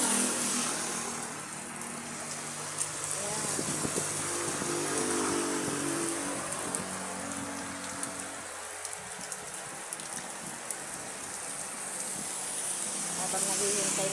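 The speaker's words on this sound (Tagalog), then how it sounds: "nakisilong kami kasi sa lakas ng ulan" Heavy rain pouring down beside a highway, seen from shelter at a house, a dense continuous hiss of drops on surfaces with a passing vehicle's low rumble partway through.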